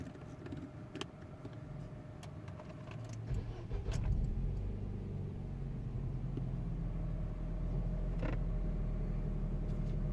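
A Nissan Qashqai with a 2.0 petrol engine starts with a creak and key jingle, then settles into a steady, close, loud idle rumble that fills the rest of the stretch.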